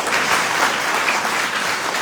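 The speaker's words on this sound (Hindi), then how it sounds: "एक बार अपने लिए ताली बजाएं।" Trainees at an Ok Life Care training session in Kashipur, Uttarakhand clap for themselves, giving two seconds of steady, close, full-room applause with no pauses.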